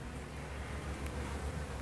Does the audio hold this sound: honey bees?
yes